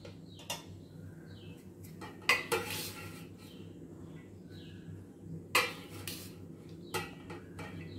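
Rice spooned into a pot of homemade fish biryani: a few sharp metal spoon clinks and scrapes against the pot, spaced irregularly over a low steady background hum, with faint bird chirps far off.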